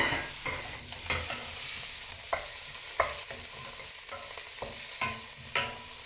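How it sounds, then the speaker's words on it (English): Steady sizzling of food frying in a pan, punctuated by repeated scraping clinks of a utensil stirring, close and moderately loud. "just flash frying the stir fry"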